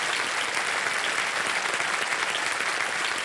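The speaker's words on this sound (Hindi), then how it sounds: "एक बार जोरदार तालियां हो जाएं वेदांग के लिए" A studio audience at a Kaun Banega Crorepati quiz show taping bursts into loud, sustained applause, a dense wash of clapping that holds steady throughout with no voices on top.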